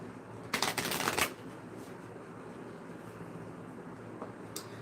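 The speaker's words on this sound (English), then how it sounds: "Here we go, one more shuffle." Tarot cards being shuffled, a close, crisp riffling burst lasting under a second, then quiet room tone with a couple of faint card taps.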